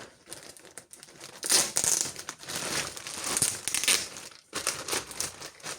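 Plastic parcel mailer from a clothing order being torn and unwrapped by hand, loud crinkling and crumpling with rustling bursts throughout, close up, no talk.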